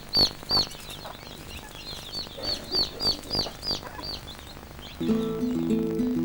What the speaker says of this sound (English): it's nice to see hens able to roam freely around the gardens